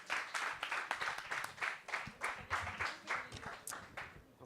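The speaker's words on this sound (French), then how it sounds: "On l'applaudit plus fort que les autres encore." Audience at a pitch competition applauding a contestant after her pitch, rhythmic faint clapping in pulsing waves with a few cheers.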